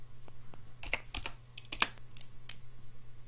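Clicky computer keyboard keys tapped a handful of times in quick, uneven succession, close and fairly quiet over a low steady hum, no voices.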